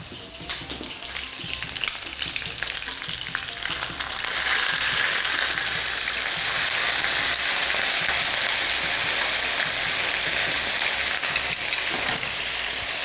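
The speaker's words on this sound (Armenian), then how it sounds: "Երկու կողմից այն տապակում ենք։" Pieces of chicken breast fry in a pan, a continuous crackling sizzle that grows louder and denser after a few seconds and then holds steady, with no talking.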